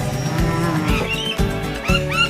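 Black Angus cattle on a large farm property near the New South Wales border moo loudly and close, several long, resonant lowing calls following one another with no talk.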